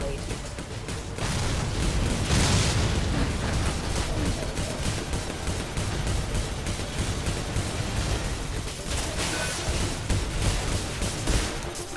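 Missile explosions and weapon fire in the space combat game Star Conflict, a dense run of loud booms and crackling blasts lasting several seconds, with no talk over them.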